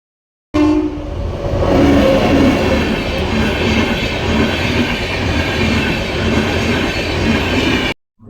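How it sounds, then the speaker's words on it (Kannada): Train passing on a Bangalore journey, a loud, close, continuous rumble and clatter of cars rolling by for several seconds, starting and ending abruptly. "ಇವಾಗ ಒಂದು ಟ್ರೈನ್ ಐತೆ ನೋಡಿದ್ರಲ್ಲ ಗಾಯ್ಸ್"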